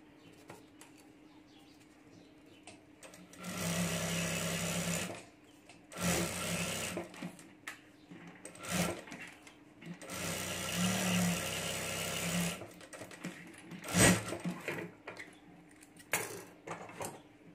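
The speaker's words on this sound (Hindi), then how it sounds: "तो यहाँ ऊपर भी मैं एक सिलाई कर देता हूँ" Sewing machine stitching through fabric, rubber sheet and lining for a mini backpack keychain, running in several rapid whirring bursts of a few seconds each, separated by quiet pauses.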